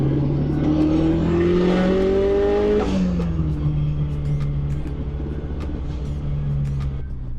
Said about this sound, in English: with the equal length manifold that Jono did and the screamer pipe, which you can definitely hear when you're pulling, the car really sounds good